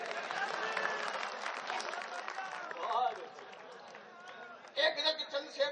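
Clapping from the audience at a Kurwai kavi sammelan poetry gathering, a broad wash of applause mixed with voices and crowd noise that fades and then returns in a few sharper bursts.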